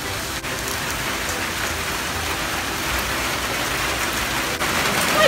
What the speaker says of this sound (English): And here outside it's raining like crazy.